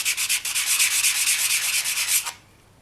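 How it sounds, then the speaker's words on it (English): Wet sandpaper rubs quickly over a piece of polymer clay in a brisk run of short, close, steady scraping strokes that stop abruptly near the end, with no voices. "And then I'm just going to take this, and it's a very quick sand."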